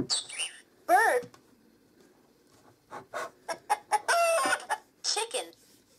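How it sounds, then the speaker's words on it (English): A Fisher Price Little People digital jigsaw puzzle toy gives electronic chicken clucks and a rooster-like crow in short, choppy bursts with quiet gaps between them, close and moderately loud. "Chicken."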